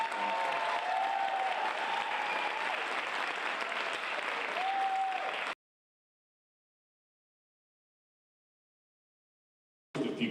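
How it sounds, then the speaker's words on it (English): Theatre audience applauding at an opera house season announcement, a sustained wash of many hands clapping with a faint whistle or two, then cutting off abruptly into silence before a brief return at the end. "Let's give them a round of applause"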